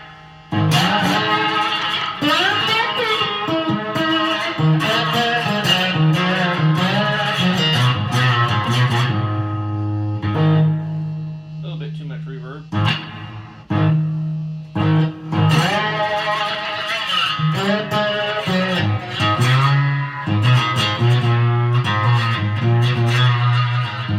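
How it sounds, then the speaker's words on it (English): A cigar box guitar played with a brass slide through a lightly distorted amp, gliding notes and strummed chords with a metallic, resonant twang. "if you listen close, you can hear a little bit more of a reso sound with the slide"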